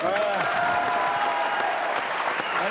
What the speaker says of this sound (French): Applaudissements pour notre ami.